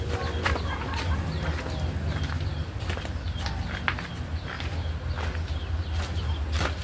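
Male chickens fed black soldier fly larvae cluck and shuffle nearby, with scattered wing flaps and sharp scratching clicks over a steady background hum.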